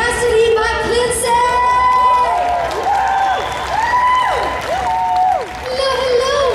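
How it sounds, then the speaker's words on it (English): An audience at a comic con Q&A session applauds and cheers for an actress walking on stage, a continuous crowd wash of clapping under excited shouts and a host talking. "I need a round of applause for Cassady McClincy."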